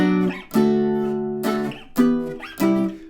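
Bouzouki chords strummed fully barred, four choppy separate strums with harmonic ringing that is cut off short between them, played alone up close.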